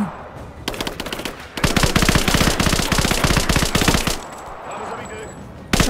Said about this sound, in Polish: Jestem pod ostrzałem.